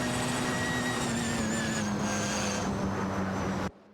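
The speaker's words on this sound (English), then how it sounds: "Such a thrilling battle between a Peugeot 207 GTI and an Infiniti Q50 Eau Rouge" A Peugeot 207 GTI and an Infiniti Q50 race through Eau Rouge in an AI racing game, their engines holding a loud, steady high-pitched whine that cuts off abruptly near the end.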